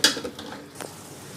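Tomato and green chili paste being mixed into a masala in a cooking pan: a sharp utensil clatter at the start, then a few softer scrapes fading out, close and without speech.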